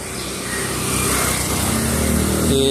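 A motor vehicle rushes past close by on a city street, its engine roar and tyre noise swelling loud and steady over a few seconds as it speeds through.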